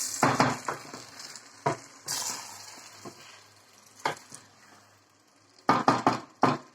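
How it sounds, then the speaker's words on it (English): A spoon stirs spinach soup with meat stock in a pot, giving scattered close scrapes and clinks against the pot sides among quieter stretches, with a soft sizzle underneath and a cluster of sharper knocks near the end. "Then I stir it."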